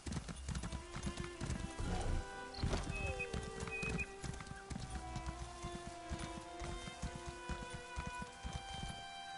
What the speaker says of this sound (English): Just gonna hop my horse around.